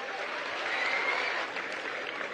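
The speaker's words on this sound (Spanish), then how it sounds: "Le pido un aplauso para la doctora Beatriz." Applause from an audience at a public reading-promotion event in Michoacán, a brief even wash of clapping heard at a moderate distance.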